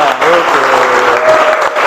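A classroom of automotive engineering students claps loudly for a classmate, a dense burst of applause heard up close, with a teacher's brief spoken word over the start.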